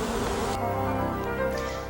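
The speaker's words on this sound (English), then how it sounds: "Hear all that noise they're making? That is because they're fanning their wings and sending the scent of the hive out into the air" Bees fanning their wings inside a beehive, a dense, loud continuous buzzing drone heard close up, with no talk over it.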